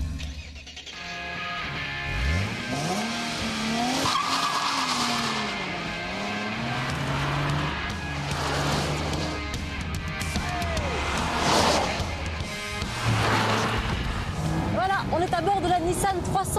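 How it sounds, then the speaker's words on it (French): A Nissan 370Z Roadster driven hard on a race circuit near Paris, its engine loud and rising and falling through repeated hard accelerations, with tire squeal and skidding woven through the run and a voice talking over it. "Une petite séquence sensation forte à bord de la toute dernière Nissan 370Z Roadster."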